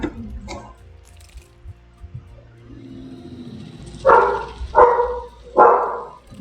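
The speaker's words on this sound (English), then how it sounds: "That's my dog, ignore him." A dog indoors gives three loud barks in quick succession, evenly spaced, after a stretch of quiet room noise with faint clicks.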